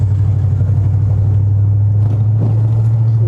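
A 1972 Chevy El Camino, an abandoned garage find, drives along as its engine shifts up, a loud steady low drone heard from inside the cab with a slight change in tone partway through.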